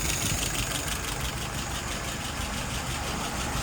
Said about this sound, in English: Right now, I've got her idling at about 660.